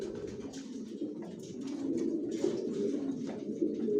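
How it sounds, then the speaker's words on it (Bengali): Racing pigeons of a long-distance Janssen line coo softly in a loft, a low rolling murmur that swells slightly in the second half, with faint fluttering sounds above it and no voices. "আমার লফটে সব লংয়ের কবুতর পালি"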